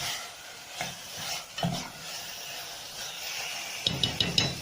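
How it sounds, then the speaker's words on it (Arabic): Chicken liver and gizzards fry in a pan with a steady sizzle, broken by several scraping stirs and a cluster of quick metallic clinks near the end. "دلوقتي يا حبيبي هننزل بقى بالكبده والقوانص اللي عندنا"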